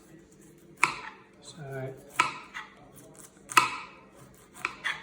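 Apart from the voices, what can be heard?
knife slicing cauliflower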